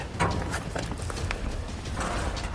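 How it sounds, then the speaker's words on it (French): Footsteps land outside during an exploration, a run of dull, rhythmic steps over a steady, noisy background, fairly close and unbroken for a couple of seconds. "Ouais, c'est des bruits de pas quoi."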